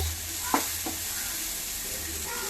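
Small chopped pieces fry for idli upma in a pan with a quiet, even sizzle, broken by a couple of brief knocks from a spoon near the start.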